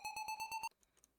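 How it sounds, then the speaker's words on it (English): Rising beep build-up effect in an electronic beat, a rapid string of about six short, evenly spaced tonal beeps that stops abruptly, leaving faint echoing blips behind. "We got the Taka beep rise."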